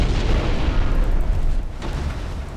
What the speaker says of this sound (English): Just blew up a torpedo